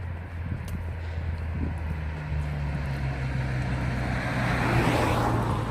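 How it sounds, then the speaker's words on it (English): A car nears and goes by on a quiet country road along a Ridgeway hiking trail, its low engine and tyre rumble swelling steadily to a close pass over outdoor wind noise. "Oh, car coming."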